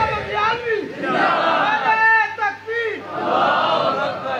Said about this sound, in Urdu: بڑے نعرے ہو گئے یار